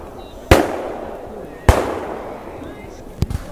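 Gunfire from a battle reenactment of the storming of Insterburg: two sharp, loud blank shots about a second apart, then a quicker pair of fainter pops, with outdoor background noise between.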